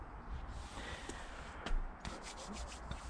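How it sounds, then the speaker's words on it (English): Steady rubbing of sandpaper along a homemade carp fishing baiting pole, a continuous close scratchy drone with a few sharper strokes and small knocks, no voices. "I'll speed up the rest so that you don't have to sit through obviously all the boring sanding"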